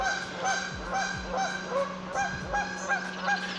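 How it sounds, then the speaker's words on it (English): Goose honking repeatedly on a creek at night, a series of nasal calls in an irregular rhythm at moderate distance over a steady low hum. "Oh, there's a goose."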